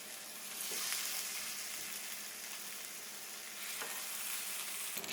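Veal chops sear in grapeseed oil in a pan at 420 degrees, giving a steady, close, loud sizzle that keeps going without pause and has no voices over it.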